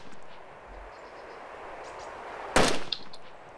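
A single loud gunshot fired at gas pumps in the video game DayZ, a sharp sudden blast with a quick decaying tail and a small follow-up crack, standing out against a quiet background.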